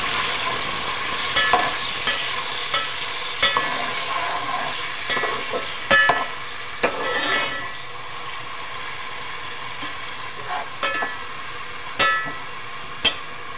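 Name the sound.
frying finely chopped onions in oil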